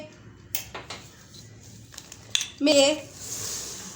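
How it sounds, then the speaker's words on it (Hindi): Raisins being tossed with flour for a fruit cake, with a few light scrapes and clinks of a spoon against a bowl and a brief louder clatter near the end, heard close up with no speech. "हम किशमिश में 1 टेबल स्पून मैदा डालेंगे और इसको अच्छी तरह से मिक्स कर लेंगे"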